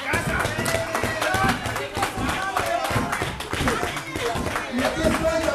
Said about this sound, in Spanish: les pido un abrazo y un aplauso para él